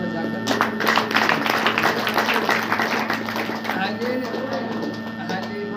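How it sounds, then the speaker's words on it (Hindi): A church congregation claps hands in rapid, dense applause, strongest early and gradually thinning, with voices heard alongside. "ताली बजाकर"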